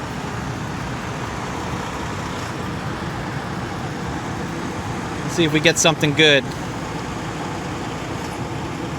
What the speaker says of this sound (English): Hard to hear anything out here with this truck idling next to us